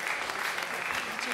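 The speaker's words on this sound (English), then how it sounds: "And give a big round of applause." A festival audience applauds for a moment, a dense, steady patter of many hands clapping, moderately distant and fairly quiet.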